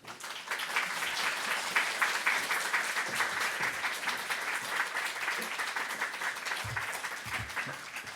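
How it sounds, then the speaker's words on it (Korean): A church congregation at a founding anniversary service applauds to welcome a guest pastor, a steady wash of many hands clapping that holds evenly for several seconds at moderate volume. "박수로 좀 맞아주셨으면 좋겠습니다"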